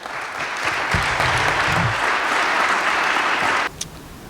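Applause from the audience at a Wayne State Hall of Fame induction ceremony, a close, steady round of clapping that holds for several seconds and then drops off sharply.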